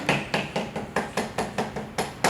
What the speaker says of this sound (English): A little light tap and work it in place.